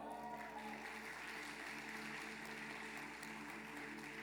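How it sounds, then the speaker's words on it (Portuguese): Congregation applauding at a family church service after a new member is introduced, a steady wash of clapping under a low hum from the hall. "Dá uma salva de palmas aí"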